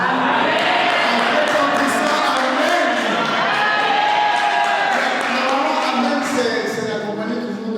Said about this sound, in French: C'est accompagné toujours d'applaudissements